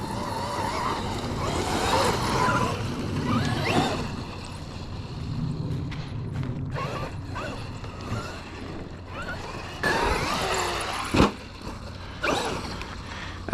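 A rebuilt Traxxas XRT RC truck bashing on dirt, its motor whining and tires scrabbling in continuous bursts, with sharp thumps from landings and crunches of gravel, fairly close.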